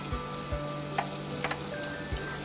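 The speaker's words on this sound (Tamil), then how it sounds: "இப்போ தண்ணி வந்து நல்லா கொதிக்குது." Water bubbles and hisses in a pot close by, with a constant simmering sizzle and a few soft pops breaking the surface.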